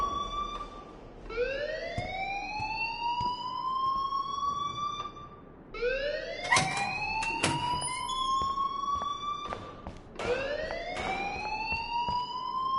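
An alarm in the game Life is Strange wails with a rising electronic siren sweep that repeats three times, loud and close, with a few sharp clicks between sweeps.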